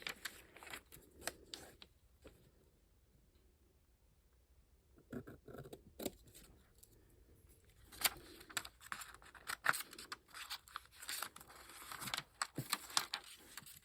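Scissors snip through paper to cut out a handmade postage stamp, a series of quiet, close crisp snips and rustles in irregular bursts with a pause in the middle.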